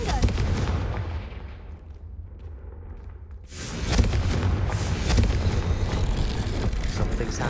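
Confringo fire spell explosion in Hogwarts Legacy, a loud booming blast with a rumbling tail that dies away into a brief hush before more crashing battle noise surges back in.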